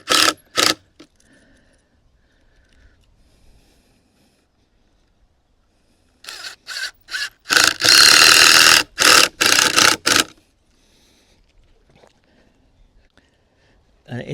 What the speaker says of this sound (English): don't over tighten the screws because you don't want to split the wood